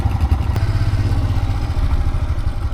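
A loaded motorbike idles nearby as bags are packed for a mountain ride from Chopta to Sari village in Uttarakhand, its low, steady, throbbing engine running close and continuous with some clatter.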